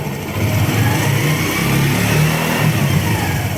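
Motorcycle engine rising from idle into a sustained, loud rev during a stator coil test, droning steadily and close with no talking.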